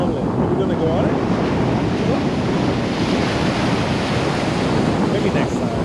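Strong wind buffets the microphone over steady ocean surf on a windy beach at Playa del Carmen, Mexico, a continuous loud roar with no breaks and no clear voices.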